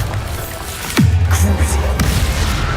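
A Bombarda blasting spell explosion in Hogwarts Legacy, a sharp crack that drops into a deep rumbling boom and keeps resonating, loud and near over a busy game backdrop.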